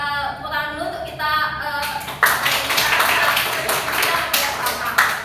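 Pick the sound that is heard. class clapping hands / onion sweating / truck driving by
class clapping hands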